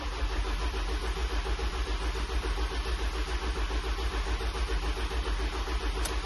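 A Ford Transit 2-litre Eco diesel engine cranking on the starter to build oil pressure after a turbo replacement, a loud rhythmic chugging churn that repeats evenly without catching.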